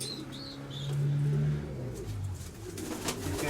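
A young grey pigeon coos in a loft, a few soft low rolling coos standing out close against quiet chirps and background rustle.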